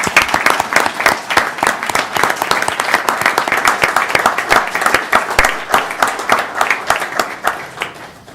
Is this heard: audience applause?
yes